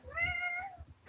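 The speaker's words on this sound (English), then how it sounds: "you hear my cat meowing by any chance?" A single drawn-out meow from a pet cat, close and fairly loud, rising and then falling over about a second.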